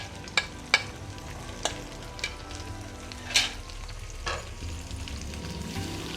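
Okra (bhindi) frying in a pan, a soft continuous sizzle under a few sharp clinks and scrapes of a spoon against the pan, with no talking.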